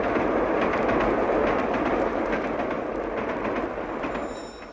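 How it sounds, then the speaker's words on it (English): An express train roars past in an old stereo demonstration recording, a loud, dense rumble with clattering wheel beats that slowly fades as it recedes. "With stereo, an express train roars through your living room."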